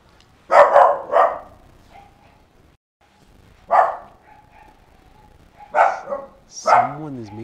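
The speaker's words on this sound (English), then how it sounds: "Yeah, that dog is hungry." A dog barks in a few separate bursts, fairly close, with quiet gaps between them in a hidden mountain town in the Italian Alps; some brief vocal sounds mix in near the end.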